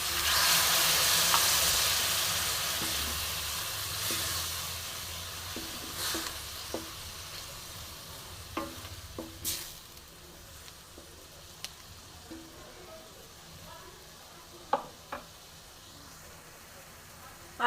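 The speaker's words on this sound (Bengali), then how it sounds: "আর একটু ভালো করে ফুটুক" Shrimp poppy-seed curry with pointed gourd peel paste simmers in a pan after water is added. It gives a soft, steady hiss that fades over time, with scattered close clinks and scrapes of stirring and no talk.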